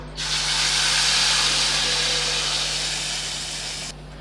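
Ground masala paste hits hot oil in a pan for hotel-style egg gravy, giving a loud, sudden, continuous sizzling hiss that holds steady for several seconds and then cuts off abruptly, with no talk.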